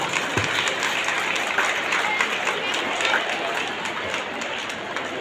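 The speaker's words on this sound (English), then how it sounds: "Clap for them, please, again." Steady, full applause from a crowd at an honouring ceremony for students with perfect attendance, dense continuous clapping that stays loud across the whole stretch.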